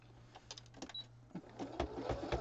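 A home sewing machine runs a serpentine stitch in short bursts, its motor whirring and the needle clattering nearby, starting and stopping with small pauses.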